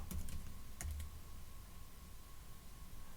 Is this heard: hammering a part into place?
no